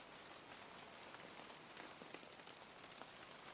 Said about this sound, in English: and the rain fell on the lawn, and on the terrace